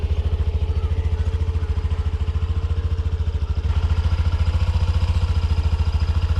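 A Honda Dio BS-6 scooter sits halted with its engine left running, a steady, close putter of regular low pulses with no talk over it.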